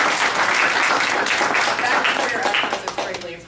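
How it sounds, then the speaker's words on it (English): Loud applause from a crowd, dense clapping at close range that fades out over the last moment. "we'd like to give her a round of applause"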